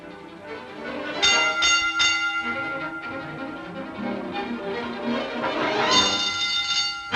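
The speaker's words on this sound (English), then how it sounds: "Clang, clang, clang went the trolley. Ding, ding, ding went the bell." Trolley bell from a song in the film Meet Me in St. Louis, struck in a few bright clangs in two bursts over lively orchestral music.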